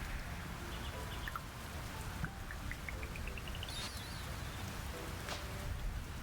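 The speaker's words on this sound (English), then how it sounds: "That's a nice thunderstorm rain sound." Rain falling steadily in the farming video game Fields of Mistria, a faint continuous patter with light chirping game sound effects over it.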